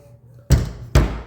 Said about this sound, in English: I'm gonna close this door behind me.